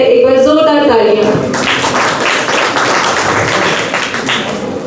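An audience applauds a photographer named Naresh at a theatre festival event, with loud, sustained clapping from a large crowd that begins after a brief spoken announcement and continues steadily.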